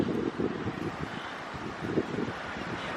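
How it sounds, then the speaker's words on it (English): Wind blows outdoors in a charming village, a steady rushing gust buffeting the microphone for a few seconds with no voices. "Look, the wind."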